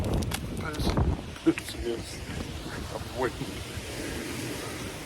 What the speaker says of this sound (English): It's a bit windy, so the gimbal's blowing.